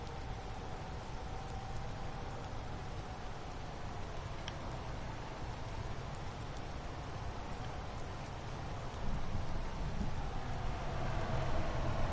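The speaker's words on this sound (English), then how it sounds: "I know it's raining outside my house here" Steady rain falls outside a house, a constant dense hiss of drops that continues evenly and swells a little louder toward the end.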